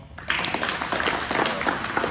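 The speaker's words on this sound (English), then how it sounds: "Give yourself a round of applause." A crowd of fathers breaks into applause after a short quiet start, a dense, lively burst of clapping that stays loud and even to the end with no voices over it.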